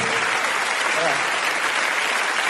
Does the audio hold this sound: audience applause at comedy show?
yes